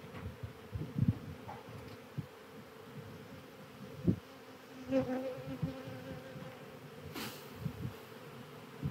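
Honey bees shaken from frames into a queen-rearing cell builder buzz softly and steadily, with scattered louder passes and faint handling bumps, with no talking.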